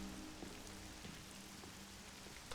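Rain falling over a cyberpunk city in the game Rain Code, a soft, steady patter on surfaces with no let-up, quiet and even from start to finish.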